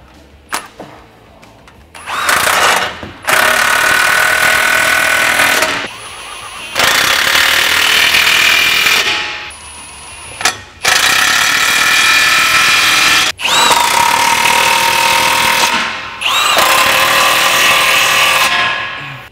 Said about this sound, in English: we're gonna tighten up our clamps now. I got a 15mm socket on my impact gun.